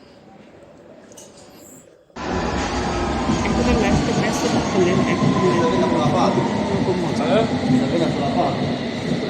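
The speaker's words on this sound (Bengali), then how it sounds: "এই তো ট্রেন চলে আসছে" A train pulls into a London station on the Upton Park line. Its loud rumbling roar starts abruptly and continues with rattling wheels and faint squeals, while someone speaks briefly over the noise.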